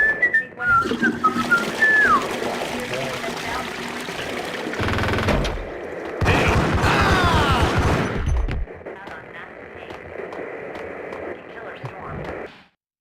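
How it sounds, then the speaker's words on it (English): Whistling in the 2001 video game Max Payne, a thin wavering tune near the start amid game sounds, followed by loud bursts of rapid gunfire and a quieter ambient tail. "Whistling again."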